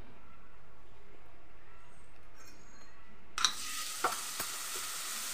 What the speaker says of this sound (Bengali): যে মশলার পেস্টটা আমি তৈরি করে রেখেছিলাম সেটাই এর মধ্যে দিয়ে দিচ্ছি।